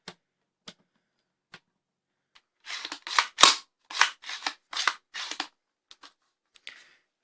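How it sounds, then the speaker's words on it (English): Parts of a ZWQ Viper click into place during assembly, with a few sparse, crisp clicks followed by a close, dense flurry of rapid clicks and snaps, then a few more isolated ticks. "Seems like clicking in."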